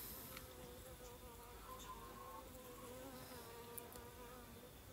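Honey bee workers buzz inside a queenless hive split, a close, continuous hum of wings with wavering pitch, fairly quiet and steady, with no talk.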